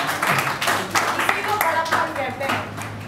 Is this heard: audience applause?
yes